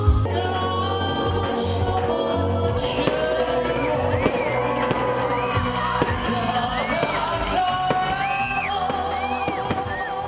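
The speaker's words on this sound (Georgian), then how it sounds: "საზეიმო კონცერტი ფეიერვერკით დასრულდა." Fireworks close a festive outdoor concert at the Ekvtimeoba celebration in Guria, Georgia: continuous loud crackles and bangs over a cheering, whooping crowd.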